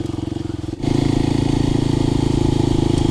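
Kawasaki KLX 300 dirt bike riding along a rocky trail, its single-cylinder engine thrumming in a steady close pulse that steps up louder a moment in and holds a constant cruising drone.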